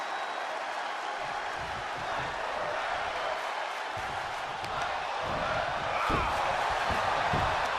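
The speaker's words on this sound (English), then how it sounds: "The crowd is into it." Crowd noise from a live wrestling event fills the arena, a steady loud roar with cheering swells and a few slam-like thuds from the ring near the end.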